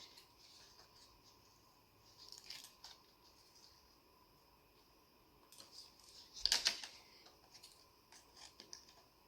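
Scissors snip through paper, cutting out a shape in short, quiet bursts of clicks and crisp cuts, with one louder, closer cut near the end in an otherwise still room.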